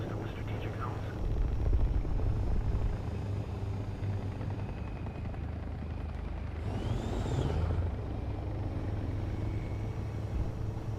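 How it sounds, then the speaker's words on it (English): Jet aircraft passing overhead in a multiplayer war video game, a broad roaring sweep that swells mid-clip over constant low battle rumble and game noise. "No, that's a jet."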